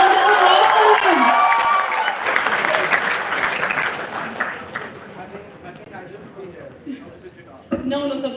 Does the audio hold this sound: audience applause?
yes